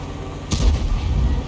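A 105mm tank gun fires once on the Panhard EBR 105 in a tank battle game, a sharp loud blast followed by a deep rumbling boom that lingers to the end.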